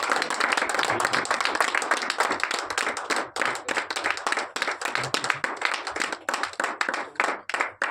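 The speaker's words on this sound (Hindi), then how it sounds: "जोरदार ताली सबके लिए।" Enthusiastic applause from a seminar audience in Jaipur, dense clapping at first that thins into scattered individual claps toward the end.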